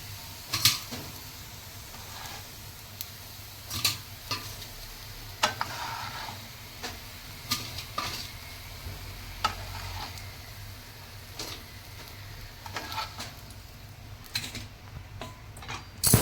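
Rajma tikki shallow frying in oil in a pan: a steady soft sizzle runs throughout, broken by occasional sharp pops, taps and clicks, close and at moderate level, with no voices.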